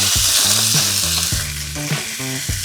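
Chicken thighs browning in a hot oiled pan give a steady, loud sizzle, with a few scraping stirs and clunks against the pan, and no talking.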